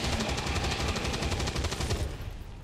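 Rapid gunfire from an XCOM 2 combat skirmish, a dense burst of repeated shots in quick succession that fades out near the end.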